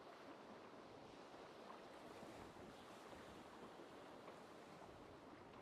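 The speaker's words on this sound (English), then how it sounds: "You can hear the gentle, rhythmic sound of the waves." Ocean surf washes steadily in a faint, continuous hiss, with no talking.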